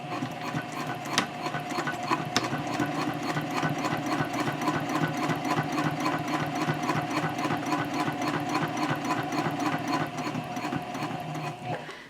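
A sewing machine back-stitches a messenger handbag, a continuous, even mechanical chatter of the needle running close and steady throughout, with a couple of sharp clicks and no talking.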